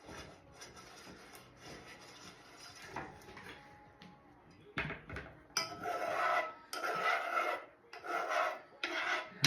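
A metal whisk scraping around a pan while cheddar sauce is made: scratchy rasping strokes, quieter at first, then louder rhythmic bursts of scraping, close up with no speech.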